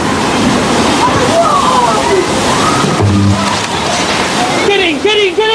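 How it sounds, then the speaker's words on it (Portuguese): A giant tsunami wave about five meters high surges onto a beach in a loud, continuous roar of crashing, sloshing water, with voices shouting over the torrent. "Logo, a onda gigante se forma."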